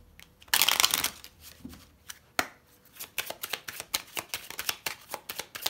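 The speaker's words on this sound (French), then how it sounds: "On va poser les 5 cartes." Lenormand cards are shuffled and then laid out on a table. A close burst of riffling comes first, followed by a run of soft, quick taps and flicks as the cards are set down one by one.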